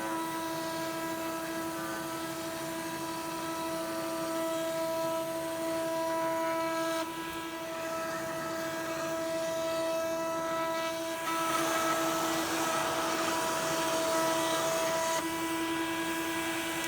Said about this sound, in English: you could just use a simple cutter like this in your router